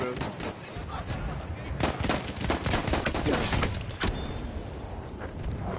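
Battlefield 1 gunfire crackles as rapid, dense volleys of shots come close and loud through most of the stretch, with a few separate bangs and a brief lull near the end.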